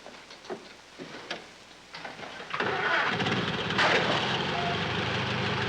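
Car engine in a 1940 film cranking in stuttering bursts for a couple of seconds, then catching and settling into a loud, steady running rumble, with no talk.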